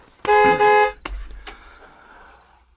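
A loud, sustained car horn blares twice in quick succession, followed by softer rumbling and faint distant toots.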